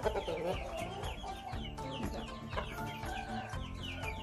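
Ayam ekor lidi chickens clucking in a steady, close chorus, with brief sharper calls rising over a dense, continuous background.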